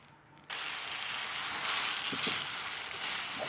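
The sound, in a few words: apples cooking in sizzling caramel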